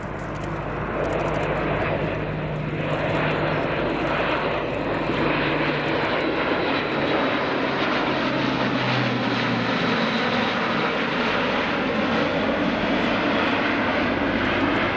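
Three Grob Tutor propeller trainers break into the circuit at the RAF Cosford airshow, a steady loud engine drone filling the whole stretch without pause, the pitch shifting gently as they pass.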